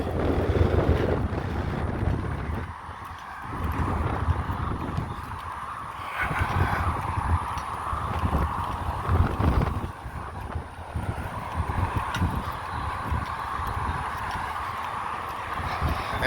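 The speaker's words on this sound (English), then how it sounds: "And that wind ain't stopped blowing yet." Strong wind blowing outdoors, a continuous loud rumbling buffet on the microphone that rises and falls in gusts, with faint thuds underneath and no talking.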